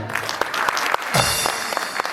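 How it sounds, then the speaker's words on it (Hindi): A crowd claps steadily with dense, overlapping hand claps, sustained and fairly loud throughout, swelling slightly midway. "पहले तो मैं नाम लूंगा हाजी सुल्तान राही का, उसके नाम की तालियां होनी चाहिए"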